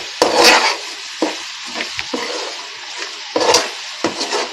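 A tempering of curry leaves frying in hot oil for brinjal vangibath sizzles loudly up close, broken by sharp bursts of spoon stirring and scraping against the pan.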